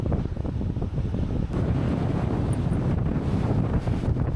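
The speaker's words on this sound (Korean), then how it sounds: "특히 바람이 많이 불어서 몸이 휘청거릴 정도였어요." Loud, steady wind roaring across the microphone on a cliff-top coastal walk in Sydney, with surf below, forming a dense buffeting rumble with no pause.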